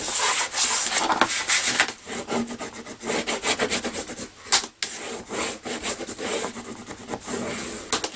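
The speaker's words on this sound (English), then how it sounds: "I'm going to burnish on the other side as well, just to get a nice crisp line" A paper file folder being burnished along its folds to crisp the creases gives continuous close rubbing and scraping strokes, steady and fairly loud with a brief pause near the middle.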